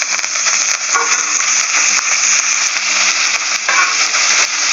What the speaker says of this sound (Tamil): இப்போ நம்ம வந்து இதில் கருவேப்பிலையை அதில் கொட்டணும்